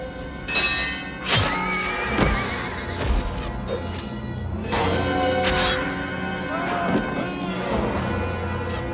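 Horses neigh and whinny loudly in a battle scene from the film Bram Stoker's Dracula, several overlapping calls over a dense rumbling score with crashes and thuds.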